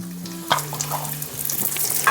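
Onions, dry and green chillies and curry leaves fry in hot oil in a pan, a continuous close sizzle with stirring scrapes and a brief clatter, no voices.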